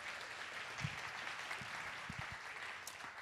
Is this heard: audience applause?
yes